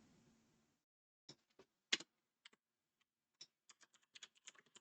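Computer keyboard typing while entering a waypoint into flight navigation software: a quiet, sparse run of individual key clicks that speeds into a quicker cluster toward the end, close and alone.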